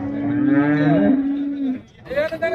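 Young buffalo calves, seven to eight months old, moo loudly and close by at a busy cattle market: one long low call, then a shorter higher bellow after a brief pause.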